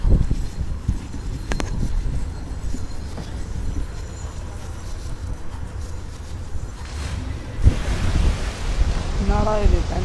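Rushing water and waves from the Prince of Persia video game wash steadily, broad and loud, with a gust-like surge near the end.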